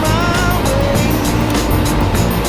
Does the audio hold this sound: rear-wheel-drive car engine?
yes